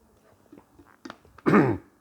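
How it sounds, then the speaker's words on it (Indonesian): A man clears his throat and coughs, a few faint throat sounds building to one loud, close cough burst near the end. "saya lagi batuk sebetulnya."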